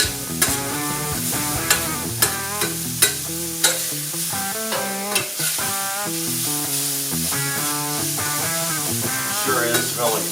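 Food sizzles on a Vevor 22-inch 1600W electric flat top griddle, a steady hiss under louder melodic music with a few sharp tapping hits.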